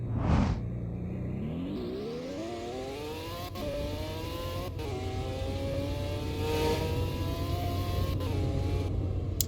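The McLaren F1 LM, here called the MacLarson Phantom in a Roblox driving game, revs hard as its engine pitch climbs steadily through the gears. Short gear-change dips break the whine, which runs loud and continuous with no speech.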